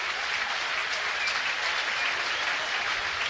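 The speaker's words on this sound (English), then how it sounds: "Nice ovation by the crowd." Crowd at a Padres versus Phillies baseball game applauding and cheering in a steady, dense ovation that holds evenly at moderate distance throughout.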